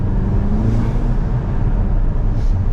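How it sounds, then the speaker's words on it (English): Inside an Audi TT on the move, a loud steady rumble of engine and intake noise sits close, with a continuous low drone and no voices. "Oh, now I can hear my intake at last."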